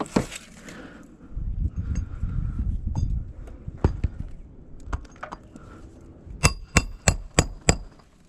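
A hammer striking nails while a roof shingle is replaced, with one sharp blow early, a stretch of scraping, then scattered taps and a fast series of five ringing strikes near the end, up close.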